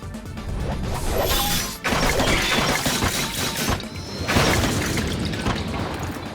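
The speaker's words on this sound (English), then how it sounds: "Saber runs, smashing away the swarming bone creatures" Saber cleaves through swarming bone creatures in a video game, with dense, loud crashing and shattering impacts piling up continuously, brief lulls between bursts of smashing debris.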